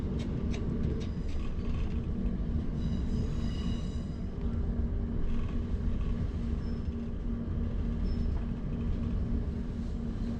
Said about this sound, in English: that's the Manchester Airport train just leaving now